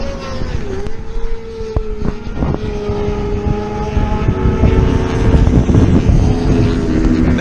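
Race motorcycles, one of them a Yamaha, passing at a CCS Team Challenge endurance race at Carolina Motorsports Park: loud engines drone and whine throughout, a pitch sweeping down as a bike goes by and another building near the end, with no talk.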